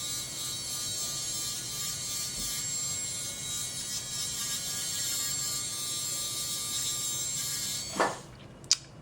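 A dental rotary polisher with fine Ivoclar Optragloss runs at about 10,000 to 15,000 RPM on veneers under light pressure, giving a steady, close high-pitched whine and buzz that stops abruptly near the end with a brief clatter.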